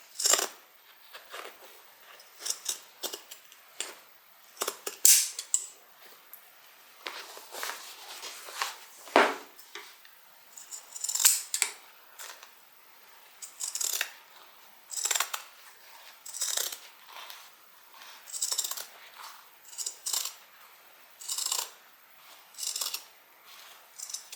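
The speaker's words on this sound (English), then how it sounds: "These pinking shears are not the greatest, which is why you don't see me use them a lot." Pinking shears snipping through fabric while sewing a canvas tote bag, a quiet series of short, crisp cuts and snips repeating irregularly at close range with no talking.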